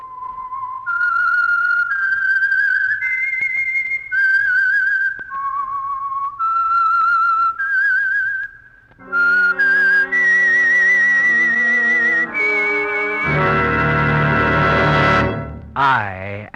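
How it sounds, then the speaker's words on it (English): Solo human whistling of the eerie theme for The Whistler radio mystery program, a slow, clear melody of held notes, followed by a swelling orchestral sting at the end. "That whistle is your signal for the Signal Oil Program,"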